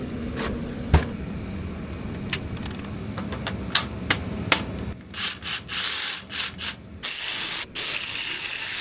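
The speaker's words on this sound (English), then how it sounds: "now I'm gonna go track down my jigsaw and cut it out" A jigsaw cuts a piece of scrap steel during a boat repair. A steady, rough cutting rasp runs for several seconds, then breaks into a choppier, pulsing stretch with scattered sharp knocks.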